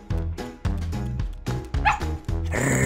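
Cartoon dog in a children's interactive Gingerbread Man fairy tale barks in a quick series of loud, close yaps and bow-wows, with a brief whimpering tone near the end and steady music underneath.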